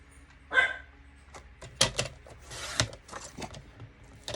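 Several dogs bark in scattered, irregular bursts, some sharp and close, others fainter, with brief pauses between.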